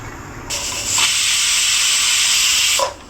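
A pressure cooker whistle on a stove while chole cooks, one close, loud, steady hiss of escaping steam lasting about two seconds before cutting off, with no talking.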